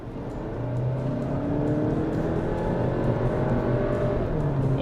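An Avante N-era compact car with mild hybrid, carrying three adult men, accelerating uphill in sport mode: a steady, loud engine drone rising in pitch as revs climb, heard from inside the cabin without speech.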